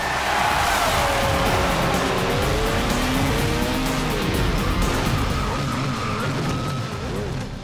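A 2006 Renault F1 car screams at full throttle, its engine note rising and shifting continuously with a harsh, loud roar that fills the whole stretch, joined by tire noise.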